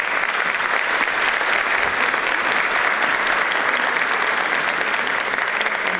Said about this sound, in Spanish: Renovemos el aplauso para